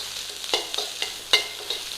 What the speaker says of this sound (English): It's old rice, pre-cooked, and all we're doing is breaking up the clumps